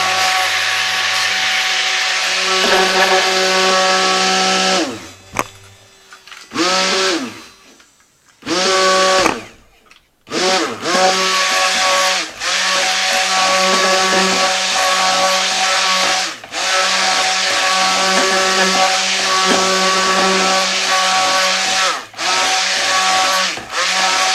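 A stick blender mixes lemongrass neem soap batter to light trace, its loud whining motor running in bursts with several short stops and restarts, close and continuous.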